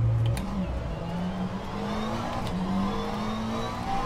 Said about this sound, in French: Je crois que c'est un V8. Turbo.